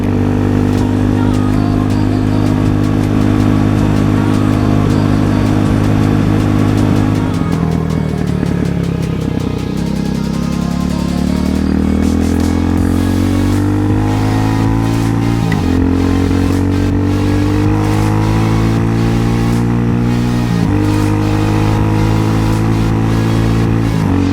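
A Honda Hawk 250 motorcycle cruises along back roads, its engine droning loud and steady, with pitch dropping and climbing through gear changes and revs.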